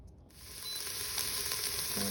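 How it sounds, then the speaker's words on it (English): Onions and garlic sizzle in an Instant Pot on saute mode, a soft, steady hiss with faint crackles and occasional stirring clicks, close but quiet, no voices. "I'm just sauteing my onions just so they cook down a little."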